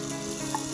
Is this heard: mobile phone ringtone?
no